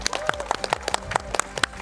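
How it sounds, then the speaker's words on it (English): A crowd clapping, many hands at once in a dense, steady patter for about two seconds, moderately loud with no talk. "Applause for yourself."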